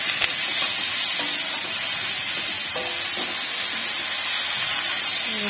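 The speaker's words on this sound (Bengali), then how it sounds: "এবার কচু আলু ভাজা হচ্ছে" Taro and potato pieces fry in oil with a continuous loud hiss and sizzle, punctuated by faint scraping clinks from stirring, and no voices.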